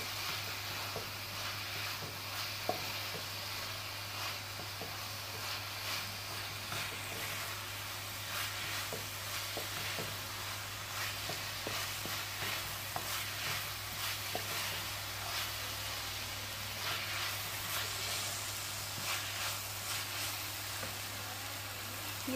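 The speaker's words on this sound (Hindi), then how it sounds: "फिर ऐड करूंगी चिली सॉस, और इसको जो है अच्छी तरह से पका लेंगे।" Vegetables with chili sauce cooking in a pan for veg pasta, a soft steady sizzle and bubbling hiss with occasional faint stirring clicks, quiet and without voices.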